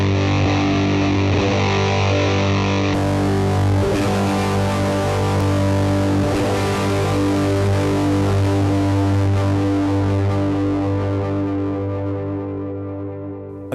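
Distorted electric guitar chord played through a fuzz effect on a Fender Mustang GT amp, a thick buzzing wash that rings out steadily for several seconds before slowly fading, with no talking.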